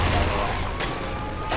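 Rapid gunfire from the video game Nuclear Throne crackles through a dense, loud game soundscape, with a few distinct bursts standing out over the steady background mix.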